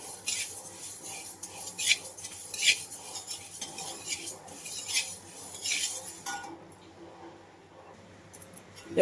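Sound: stirring moong dal while roasting it in a pan

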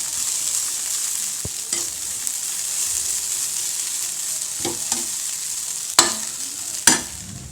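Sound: stirring banana flower stir-fry in a pan

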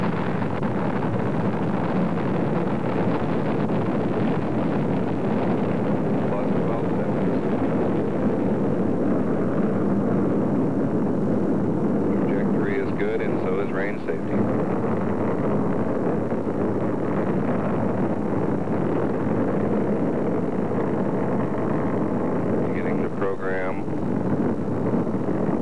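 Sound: Atlas/Agena rocket launch liftoff roar

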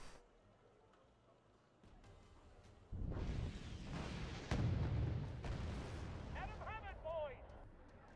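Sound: gunfire and artillery in the video game Wargame Red Dragon

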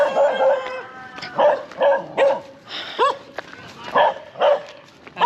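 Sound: dog barking

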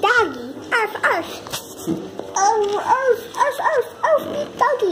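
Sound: child imitating a dog barking

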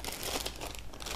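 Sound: plastic bags being handled and crinkling

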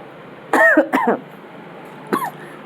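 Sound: coughing

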